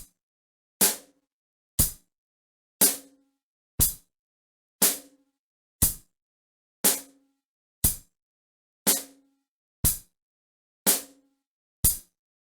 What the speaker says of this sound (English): Now we're going to go ahead and add the bass drum on beat 1 and beat 3.